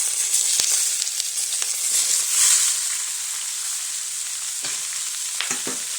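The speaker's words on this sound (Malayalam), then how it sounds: "മൂത്തതിന് ശേഷം നമ്മൾ ചതച്ച് വെച്ചേക്കുന്ന ഇടിച്ചക്ക ഇട്ട് കൊടുക്കണേ." Crushed tender jackfruit sizzles steadily in a hot pan for a Kerala stir fry, with bright continuous frying crackle broken by a few sharp spatula scrapes and clinks.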